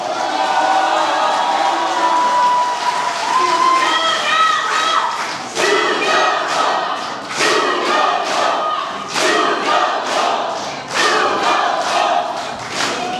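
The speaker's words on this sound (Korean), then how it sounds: "대구경제 사장님 조경호 후보에게 여러분 그런 박수 부탁드리겠습니다" A large crowd at a political rally cheers and shouts loudly, with scattered claps and thumps, the roar rising and falling in waves throughout.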